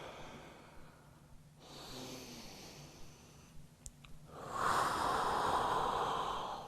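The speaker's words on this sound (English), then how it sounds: "And take about 3 more breaths here." Deep, slow breathing during a morning yoga routine for digestion: a long airy inhale followed by a fuller, louder exhale, close and breathy against a quiet room.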